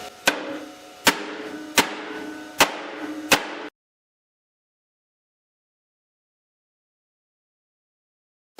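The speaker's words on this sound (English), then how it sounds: "So I guess I'll get into pounding mode again." A hammer pounds metal during a grapple bucket repair, five sharp ringing blows at a steady pace, then silence and one last strike at the end.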